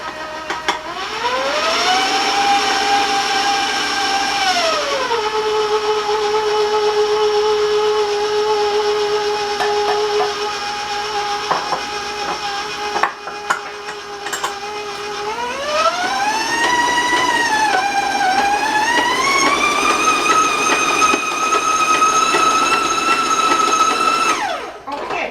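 An electric mixer or blender runs loudly through German cookie bar batter, a steady motor whine that drops in pitch, holds, then climbs again as the speed changes, continuous for about twenty-five seconds.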